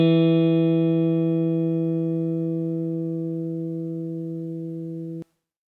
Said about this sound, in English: I'll play that backwards now using pull-offs, and I'll be using the same sound